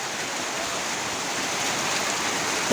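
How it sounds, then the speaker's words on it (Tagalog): Heavy rain pours down in a dense, steady hiss that stays loud and unbroken throughout, like a downpour drumming on a roof and ground. "lakas ng ulan talaga idol"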